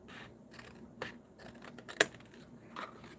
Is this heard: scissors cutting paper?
yes